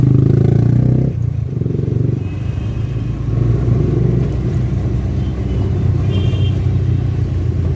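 City road traffic at a signal heard from inside an auto rickshaw, a steady close rumble of idling engines and passing vehicles with occasional clatter, no talk.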